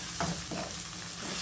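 Onions frying in a pan for Alexandrian koshari, stirred with a couple of brief scraping strokes over a steady, fairly faint hiss of sizzling oil.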